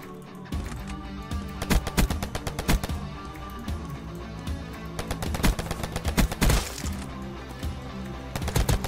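Video game gunfire crackles in rapid bursts with sharp single shotgun blasts mixed in, close and loud, repeating throughout with short gaps between volleys.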